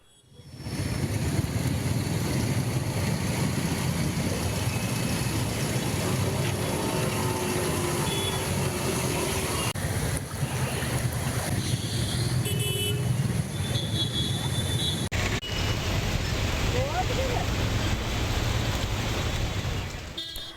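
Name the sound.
vehicles driving through a flooded road after heavy rain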